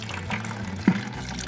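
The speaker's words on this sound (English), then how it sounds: "we're gonna drain the radiator out and get it so we can put new, fresh coolant in it" Water drains out of a classic car's radiator through an opened petcock, a steady close trickle and gurgle with one brief splash partway through.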